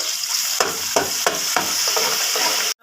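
Ginger garlic paste hits hot oil in a pan for chana pulao, giving a bright continuous sizzle broken by several rhythmic stirring scrapes, then cutting off abruptly; no one speaks.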